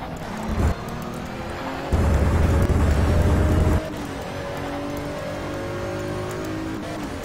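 A race car engine in the racing game Race 07 drones steadily and loudly throughout, its pitch gliding upward as it accelerates through the gears, with a heavier rumble surging briefly in the middle.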